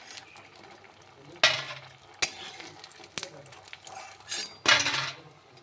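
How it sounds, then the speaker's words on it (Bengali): Bori lentil dumplings fry in oil with a low background sizzle, broken by several sharp metallic clanks and scrapes of a utensil against the pan, close by and without speech. "আমি এবার বড়িগুলোকে ভেজে নিচ্ছি"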